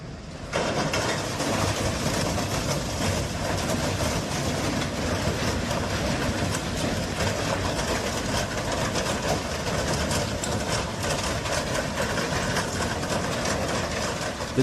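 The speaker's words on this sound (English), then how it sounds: "The train needs some time for a full stop." A train slowing to a stop rumbles and screeches continuously, a dense, steady roar of wheels and machinery with no pauses, loud and close throughout.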